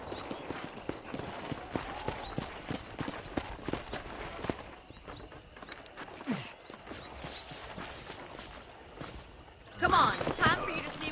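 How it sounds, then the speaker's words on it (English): Steady clip-clop of horse hooves walking in the Red Dead Redemption video game, a continuous rhythmic beat under game dialogue, with a short whinny near the end. "I picked out a fine horse for you."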